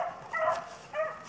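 Hunting dogs give two short, fairly distant barks or yelps during a wild boar hunt, with quiet gaps between them.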